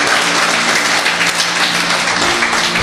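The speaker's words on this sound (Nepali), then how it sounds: "परमेश्वरलाई हामी ठुलो धन्यवादको ताली बजाउनेछौँ" Congregation at a Christian church service applauding in thanks, a dense, steady wash of clapping at close range that fills the space without pause.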